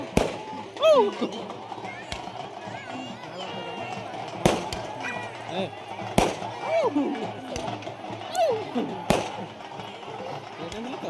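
At a village temple fair, sharp firecracker bangs go off one at a time at irregular intervals, loud and close, over lively crowd chatter and people talking nearby.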